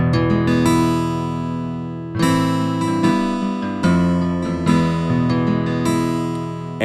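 Multi-sampled guitar patches from Omnisphere play sustained, bright plucked and strummed chords that change every second or so, loud and clean with no voices.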